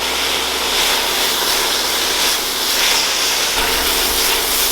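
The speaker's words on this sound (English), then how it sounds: "Saute all the veggies on medium heat for about 5 to 7 minutes until they turn translucent" Mixed vegetables sautéing in a pan over medium heat, a steady close sizzle with continuous hiss and no pauses.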